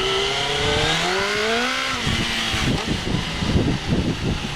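A motorcycle engine revs, its pitch sweeping up and down in smooth waves before breaking into a choppy, pulsing burble, loud and close.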